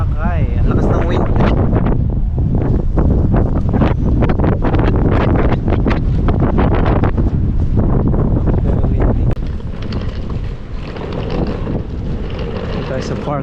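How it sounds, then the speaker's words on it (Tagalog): Strong seaside wind in Cornwall buffets the microphone with loud, continuous low rumbling gusts, easing slightly toward the end. "Ang lakas ng wind."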